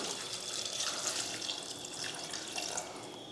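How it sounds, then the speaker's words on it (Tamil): Water streams steadily into a metal pressure cooker holding sambar ingredients, a continuous splashing, gurgling pour heard up close and fairly quiet. "இதில் தண்ணி ஊற்றிடலாம்."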